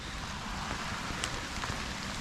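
Light rain falls during an outdoor running workout, a steady, even hiss of drops with no voices over it.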